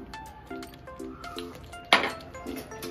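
A spoon stirs garam masala into an eggplant curry in a pan, giving a few light metallic clinks and scrapes with one sharper clank near the middle, set against faint background music.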